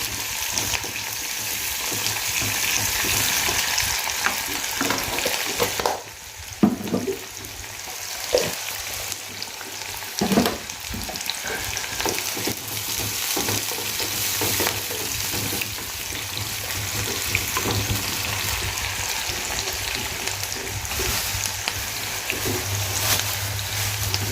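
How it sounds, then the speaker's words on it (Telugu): Sliced onions fry in hot oil for a bitter gourd masala curry, a steady loud sizzle broken by scraping stirs and a few clanks of the spoon against the pan, with nobody speaking. "ఇప్పుడు ఏంటంటే ఉల్లిగడ్డలు వేసుకోవాలి వేసాక కలుపుకోవాలి"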